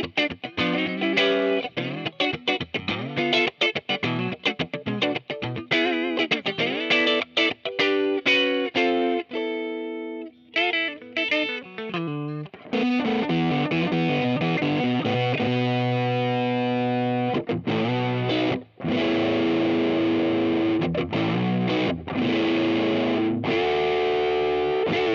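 Fender American Vintage Hot Rod 1952 Telecaster with the pickup selector in the middle position, both pickups together, played loud and distorted with busy riffs, then sustained ringing chords, with no talking.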